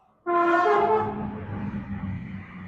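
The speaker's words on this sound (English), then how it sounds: "that's a train" A train horn blares suddenly and loudly, then the rumble of rail cars rolling past continues at a steady, fading level.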